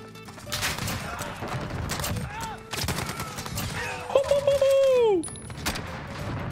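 Hip-fired gunfire in the Modern Warfare video game crackles as a dense run of rapid shots, loud and close, with game effects and a tonal chime briefly layered over the bursts.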